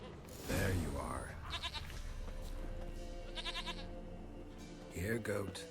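A goat in The Witcher 3 lets out a few bleats amid game ambience and music, with someone speaking between the calls.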